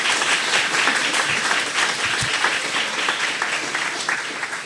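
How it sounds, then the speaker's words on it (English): An audience at a ward candidate forum applauds, a dense, steady wash of many hands clapping at once that holds evenly loud for a few seconds before easing slightly at the end. "let's give them a round of applause"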